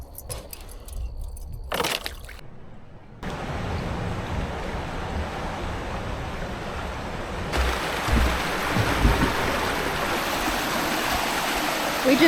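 Florida spring water flowing into the Suwannee River, a steady rushing stream sound, continuous and moderately loud, with some wind noise and a few early knocks.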